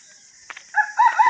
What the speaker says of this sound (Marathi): आज काय कोंबडे सगळे आरावत होत